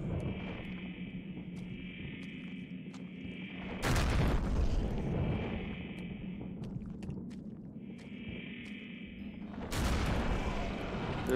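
An enchanted shotgun fires twice in the video game Eternal Darkness, each blast a sudden loud boom that rings out over a steady humming game ambience and a recurring tonal drone.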